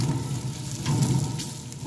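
Bacon sizzles on a Green Mountain Grill griddle with a moderate, steady crackle and hiss heard close by throughout. The sound is fairly soft, and no voices can be heard.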